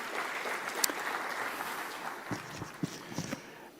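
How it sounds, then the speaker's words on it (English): Faint, distant applause from an audience at a business award ceremony honours the jury, a soft continuous patter with a few sharper claps standing out near the end. "Could we have a huge round of applause for our wonderful jury?"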